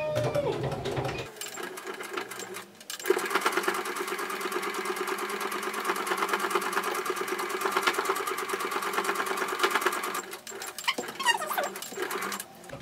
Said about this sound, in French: on peut coudre la deuxième partie